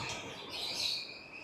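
Birds chirp and tweet steadily for a moment at a buffalo farm with mango and papaya trees, a faint continuous twittering with no talk.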